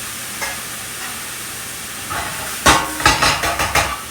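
Onion for baked ziti frying in a pan, with a soft sizzle under quiet kitchen noise, then a burst of louder stirring and scraping that arrives in several close, uneven bursts toward the end.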